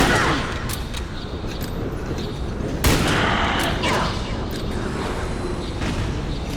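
Bolt-action rifle shots in the Metal Gear Solid 4 video game: several sharp reports spaced well apart over a steady background of in-game battle noise, with one louder crack standing out midway.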